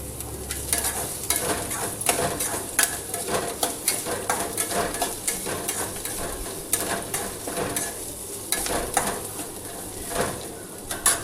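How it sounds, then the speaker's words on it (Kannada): Vegetables frying in a pan for upma (upittu) are stirred over and over: close, repeated scraping strokes of the spoon against the pan over a steady sizzle, with no talking. "ಪದೇ ಪದೇ ಈ ಥರ ಮಿಕ್ಸಿಂಗ್ ಮಾಡೋದ್ರಿಂದ ವೆಜಿಟೇಬಲ್ಸ್ ಬೇಗನೆ ಫ್ರೈ ಆಗುತ್ತೆ."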